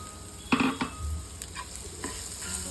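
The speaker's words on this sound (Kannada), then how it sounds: "ಈಗ ಅದನ್ನು ಸ್ವಲ್ಪ ಫ್ರೈ ಮಾಡ್ಕೋತಾ ಇದ್ದೀನಿ" Grated coconut being fried in a pan for sambar, a steady sizzle broken by several distinct scraping stirs of a spoon against the pan, close and clear.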